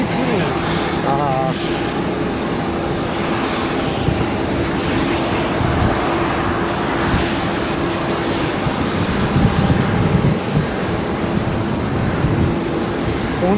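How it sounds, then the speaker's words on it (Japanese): A propeller plane lands at Chubu Centrair Airport, its broad steady engine roar filling the whole stretch from the sky deck while voices chat over it. "プロペラ機だね。 プロペラ機。 うん。 うん、 着陸だね。"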